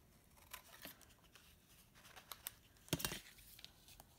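Scissors snip through paper for a crayon collage cityscape, a few quiet, scattered cuts with faint rustling and no talk.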